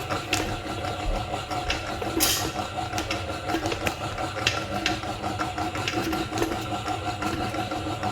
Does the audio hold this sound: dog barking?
no